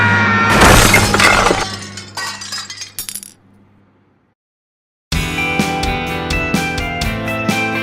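A car crashing through a fence ends in a loud burst of shattering glass with tinkling shards falling, then a brief silence before another bright clattering crash of glass and debris.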